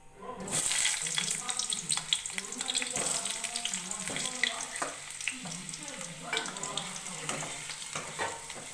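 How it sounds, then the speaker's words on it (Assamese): Potatoes fry in hot oil in a kadai, a continuous close sizzle with bursts of crackling and occasional stirring scrapes throughout. "ইফালে মই কেৰাহী এটাত অলপ তেল গৰম কৰি লৈছোঁ। এতিয়া মই আলুখিনি অলপ ফ্ৰাই কৰি ল'ম।"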